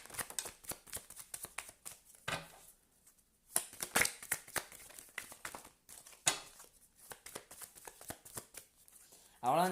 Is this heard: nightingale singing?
no